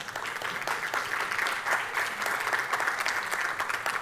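An audience at an international convention on organized crime applauds steadily, a dense, even wash of many hands clapping at moderate loudness for the full length, with no voices standing out.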